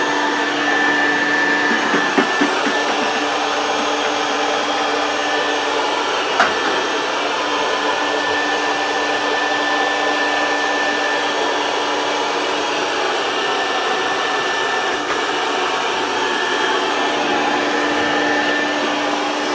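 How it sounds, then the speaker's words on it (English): A vacuum cleaner runs continuously with a steady high whine and hum, a few faint knocks and clunks from hose work inside a boiler. "we're going to hook the vacuum up"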